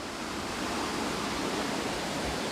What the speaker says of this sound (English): see all the water coming down? It's gonna wind up in the ocean.